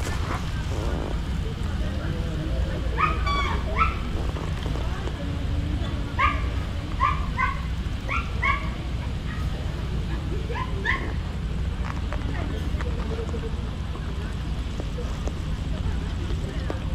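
A dog barks and yips in short bursts, some distance away, over a constant low rumble of background noise, at night in Singapore.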